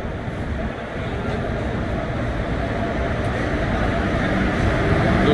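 Steady loud rumble of a train standing at a station platform on a return journey from Kerala to Mumbai, a continuous broadband roar with clattering underneath for the whole stretch, no talk over it.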